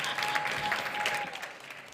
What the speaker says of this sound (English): Please help me welcome to the stage with a huge round of applause